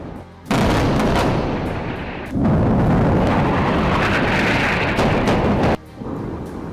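Explosions from an Israeli bombing attack on Gaza, reportedly with phosphorus bombs: a loud, sustained roaring rumble of blasts that breaks off briefly and then surges again, with no voices.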